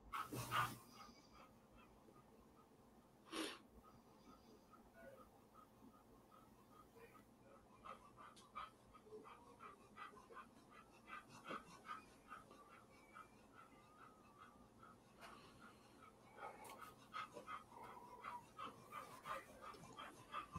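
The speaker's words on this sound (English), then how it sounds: "I hear a dog." A dog in the background yelps and whimpers faintly, with short soft barks scattered through a quiet room tone and talk nearby.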